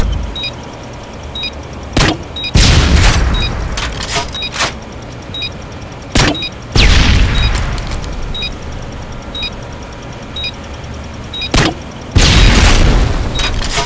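Missile deployment explosions in a video game: loud repeated booms and blasts at irregular intervals, several with long rumbling tails, over a constant background of game noise and faint periodic electronic beeps.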